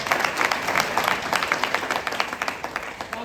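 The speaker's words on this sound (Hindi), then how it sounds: "तो तालियां होना चाहिए इस बारे में।" Audience at a Lonavala gathering clapping in applause for a school best achievement award, a dense, loud burst of hand claps with sharp individual claps standing out as it thins toward the end.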